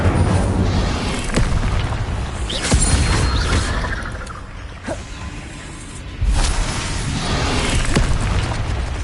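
Incendio fire spell blasts in Hogwarts Legacy, repeated heavy booming bursts with rushing fiery whooshes, loud and close over dense game noise, several sharp impacts spread across the stretch.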